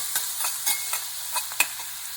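Ginger-garlic-chili paste being stirred into a frying onion mixture in a pan, with a soft steady sizzle and several scraping spoon strokes, close and moderately loud, no voices.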